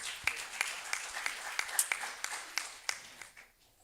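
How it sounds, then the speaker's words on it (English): Audience at a regional talent-round contest clapping for a contestant, a brief, moderately distant patter of hands with scattered sharp claps that fades out after a few seconds. "Let's clap hands for Tobile."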